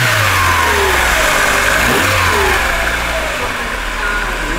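A VW Polo 6N engine revving with its turbo spooling up inside a shed, a steady loud mid-pitched engine drone with a rising whistle over it, continuous and close.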